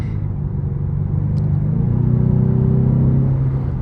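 A 2026 Ford Mustang EcoBoost drones steadily from inside the cabin while cornering, its engine note rising slightly partway through, continuous and fairly loud with no talk.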